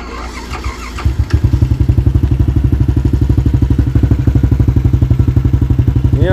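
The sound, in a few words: Yamaha LC135 V8 motorcycle engine running with exhaust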